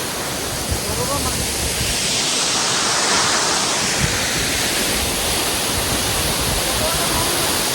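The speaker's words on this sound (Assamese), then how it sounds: "এয়া চাওক ৱাটাৰফল পুৰা পানী" Constant roaring rush of Dhunia waterfall in Longding, a dense, unbroken wash of falling water close by.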